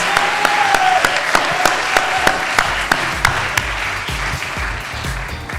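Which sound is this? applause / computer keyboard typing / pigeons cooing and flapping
applause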